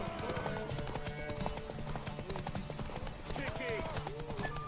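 Horse hooves clip-clopping in The Witcher 3, a quick rhythmic run of hoof beats over a game soundscape, with voices speaking on top.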